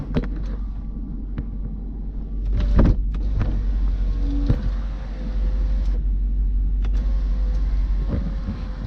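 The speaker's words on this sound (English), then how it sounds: "Sunroof also works." The sunroof motor of a BMW 540i runs with a steady, low mechanical whir inside the cabin, punctuated by a few clicks and thumps and no speech.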